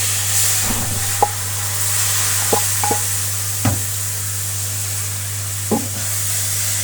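Carrot halwa frying in a pan gives a soft, continuous sizzle under a low steady hum, broken by a few faint scattered clicks and taps from stirring.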